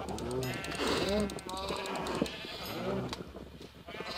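Sheep in a video game bleat in several close, wavering calls spread across the moment, mixed with someone speaking Italian over them.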